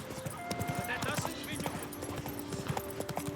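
A horse's hooves clip-clop steadily through shrubbery in The Witcher 3, a quick repeating rhythm running alongside ambient game sound.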